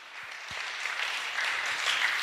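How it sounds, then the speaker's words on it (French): A church congregation claps together in a broad, steady wash of applause that holds at an even level throughout, with a couple of low thumps near the start. "On acclame, on acclame, on acclame."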